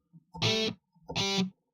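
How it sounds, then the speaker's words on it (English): Two short, heavily distorted electric guitar chords, each struck hard and cut off quickly, with silence between them. "Distortion hard."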